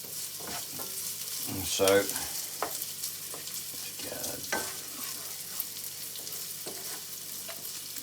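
Two tins of tomatoes being stirred into a chilli chorizo pearl barley mix cooking on a plug-in hob, with a steady low sizzle and occasional scrapes and clanks of the spoon, including a brief louder splash early on; one short spoken word.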